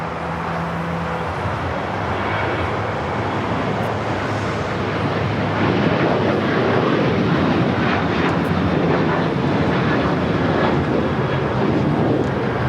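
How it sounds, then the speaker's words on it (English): An Iberia Airbus A350 arriving from Madrid touches down on runway 25 left at Los Angeles International Airport: a steady, loud, broadband roar of jet engines and rushing air that swells slightly midway and carries on without a break. "We got Iberia, the A350 coming in from Madrid, touching down at 25 left."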